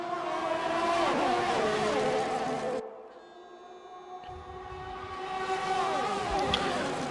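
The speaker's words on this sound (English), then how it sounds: "You can hear that terrible sound of the rev glitch there from Brandon" An F2 race car's engine wails at high pitch with a stuttering rev glitch, its tone sliding up and down, then it cuts out briefly to a low hum before screaming back in again.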